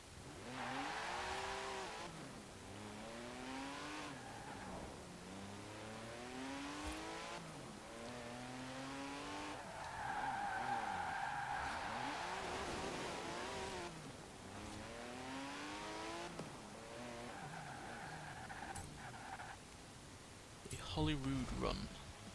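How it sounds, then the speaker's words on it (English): A Porsche 959 road car races a street scene in Forza Horizon 4, its engine revving up and down through repeated gear changes at a steady distance, with someone talking over it. "Let's see how good the 959 road car is on a street scene race."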